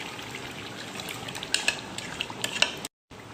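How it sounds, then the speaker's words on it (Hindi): Yogurt masala going into chicken qorma cooking in a large pan, a soft wet sizzle and gentle stirring with a few light clinks of a utensil against metal, fairly quiet and steady, no talk. "अब हम इस स्टेज पे आके इसके अंदर ऐड करेंगे जो हमारा दही वाला मसाला है"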